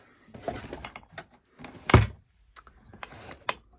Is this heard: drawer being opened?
yes